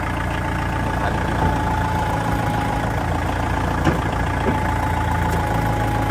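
A Kubota L4708DT 47-horsepower tractor engine runs steadily and loudly close by, a dense, even mechanical drone with no clear rises or pauses throughout.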